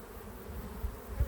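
Honey bees buzzing around an opened hive with brood frames exposed, a low steady drone close by with a couple of brief bumps, no talking.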